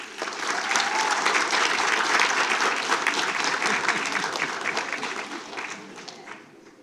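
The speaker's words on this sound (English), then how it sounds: "A huge round of applause for Harsh Varden." A school board meeting audience gives a big round of applause, dense steady clapping that swells quickly, holds strong, then thins out and fades near the end, with no voices over it.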